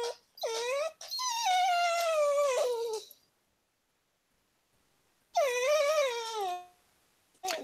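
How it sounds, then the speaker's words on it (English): A dog whines in two long, drawn-out bouts of high, sliding wails, close and fairly clear, separated by a couple of seconds of silence. "That is a dog."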